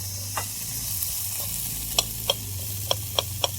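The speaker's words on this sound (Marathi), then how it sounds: "आता परतून घेऊ कांदा आणखी." Chopped onion sautés in extra oil for a Marathi-style onion chutney, a steady moderate sizzle broken by several sharp clicks and taps of a spoon stirring against the pan.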